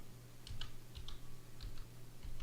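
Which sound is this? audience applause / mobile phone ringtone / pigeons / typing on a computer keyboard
typing on a computer keyboard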